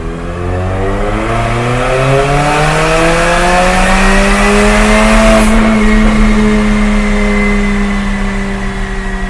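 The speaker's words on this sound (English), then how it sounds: "We just ran the Armytrix in open mode, which gives it a much louder tone." A Mercedes-Benz CLA45 AMG with an Armytrix turbo-back exhaust in open valve mode revs on a dyno from low to high rpm, a loud rising engine howl that climbs steadily, peaks, then holds near the top.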